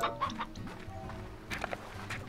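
A chicken in the video game Slime Rancher, giving several short clucks over a cluttered game soundscape of footsteps and small effects.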